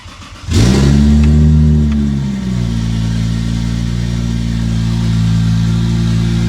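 A Lexus IS300 with an open downpipe starts and runs close by, with a sharp crank, a loud rev right after it and a steady, deep, rumbling idle after that.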